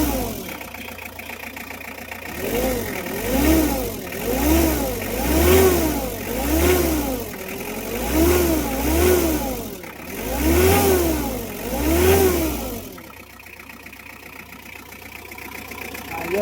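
Hyundai H100 van engine, checked after a broken timing belt, idling then revved repeatedly in a steady cycle of rising and falling swells, close and loud, before settling back to idle.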